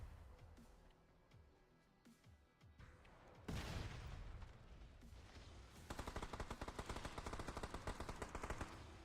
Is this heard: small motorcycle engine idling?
no